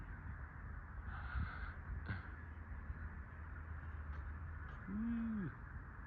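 Crows calling outdoors, a few harsh caws spaced apart over steady background noise, one bird sounding nearer and more prominent than the others.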